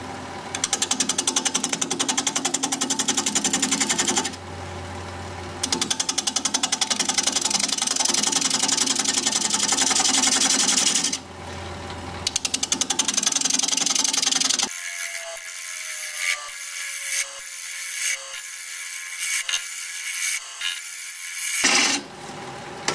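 A wood lathe turns very hard madrona wood against a half-inch bowl gouge: a loud, steady, rattling cutting roar in long passes broken by short pauses, then a quieter stretch of intermittent scraping and knocks.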